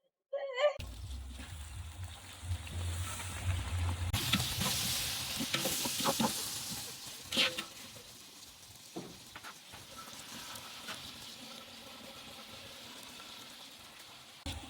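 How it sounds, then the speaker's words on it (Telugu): Green chilies and tomatoes dropped into a hot frying pan, giving a sudden burst of sizzling and frying with stirring scrapes, then a gentler crackle settling down, heard close up. "పచ్చిమిర్చి వేస్తున్నాను. టమాటాలు వేస్తున్నాను."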